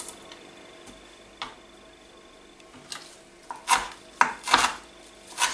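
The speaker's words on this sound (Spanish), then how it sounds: "Cortamos el perejil" A knife chops parsley on a cutting board, a handful of sharp irregular strokes that grow louder and closer toward the end, with quiet kitchen background.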